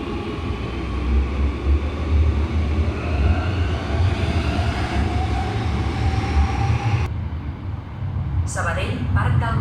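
An FGC S2 line commuter train at Sabadell Nord station rumbles steadily and loudly throughout, with station ambience that thins out near the end, and brief faint tones or voices appear in the final seconds.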